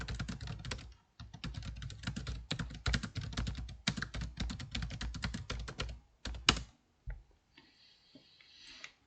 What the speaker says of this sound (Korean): 지금 타자를 치고 있습니다.